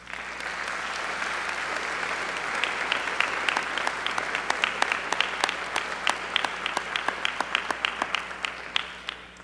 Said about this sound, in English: giving them a standing ovation.